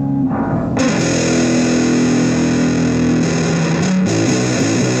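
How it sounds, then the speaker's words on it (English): Distorted Ibanez five-string bass played through a guitar amp, with thick, fuzzy sustained notes that ring out loud and continuous for a few seconds, and no speech. "Alright, now with distortion."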